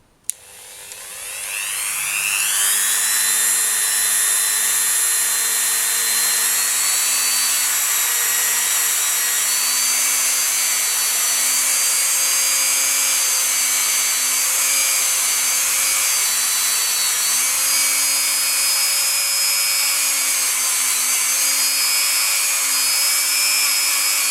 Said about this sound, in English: I'm just using a Dremel 3000 and a buffing wheel